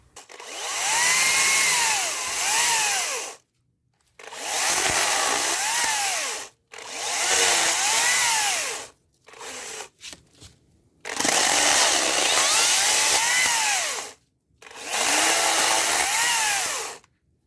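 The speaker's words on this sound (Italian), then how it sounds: "Adesso andiamo a fare una prova di taglio." A Makita cordless battery chainsaw cutting wood, running in five loud, close bursts of a few seconds each, separated by short pauses and brief stutters as the chain revs up and bites.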